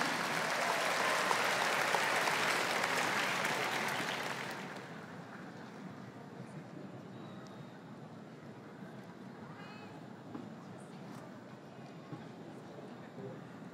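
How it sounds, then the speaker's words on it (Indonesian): An audience at a national solidarity declaration event bursts into loud, dense applause for about four seconds before it cuts off, leaving a quieter room with scattered faint noises. "Mari kita berikan tepuk tangan sekali lagi yang paling meriah."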